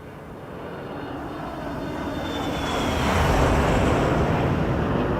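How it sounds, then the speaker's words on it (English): Boeing 737-300 jet engines roar through a flyby in the X-Plane 11 flight simulator, a broad steady rumble that swells louder toward the end, with no voices. "What a beautiful aircraft with beautiful engine sounds."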